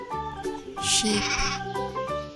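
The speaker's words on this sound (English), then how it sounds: "Sheep." A sheep bleats in a wavering, nasal call, fairly close, with a second, breathier bleat overlapping in the middle and steady background sound.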